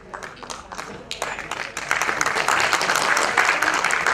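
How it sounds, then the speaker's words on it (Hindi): Scattered claps build into fuller, denser applause from the audience at an award ceremony honouring actor Sunil Shetty, with the applause rising in loudness over several seconds. "तालियां जोरदार होनी चाहिए,"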